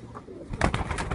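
A prized Chaudhry Sakhi pigeon coos close by, a soft murmur giving way to a louder, throaty rolling coo in the second half, heard on its own.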